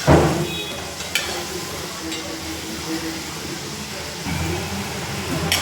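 Wheat flour modak fry in hot oil with a steady, close hiss and crackle, swelling at the start and again near the end, with faint clinks of a utensil.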